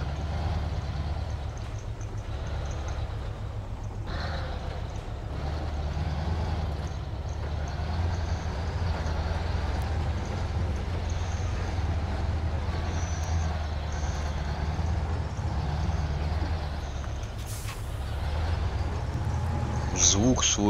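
MAZ 516 truck in Spintires: MudRunner, its engine rumbling steadily with rattles and creaks throughout, while someone talks over the continuous drone.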